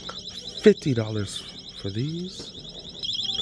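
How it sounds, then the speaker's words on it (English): Security alarms ring inside a Burlington store, a continuous high electronic warbling tone running in the background beneath a man's speech. "Starting off with a bunch of alarms already"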